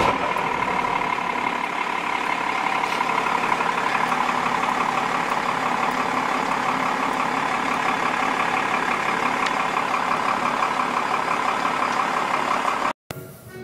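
A vehicle engine idling in neutral, a steady, even mid-pitched hum with a faint rhythmic pulse running nearly uninterrupted until it cuts off abruptly near the end.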